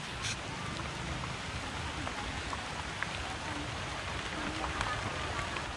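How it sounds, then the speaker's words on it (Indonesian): Light rain falls at the Umbul Senjoyo bathing place in Salatiga, Central Java, making a steady soft patter and hiss that continues evenly throughout, with scattered small drip ticks. "Rintik-rintik hujan yang membasahi tempat yang sangat istimewa ini,"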